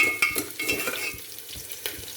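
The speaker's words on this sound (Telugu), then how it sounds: "ఇట్లా వేగిన తర్వాత దంచుకునే మసాలా అంతా ఇట్లా వేసేయాలి" Spice masala for a pounded chutney fries in a pan, a soft sizzle under repeated scraping and stirring strokes with a few light clinks of the spoon.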